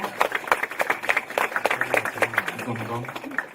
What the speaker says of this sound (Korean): 오늘 너무나 발표 잘 진행해 주신 우리 대표님께 큰 박수 한번 부탁드리도록 하겠습니다.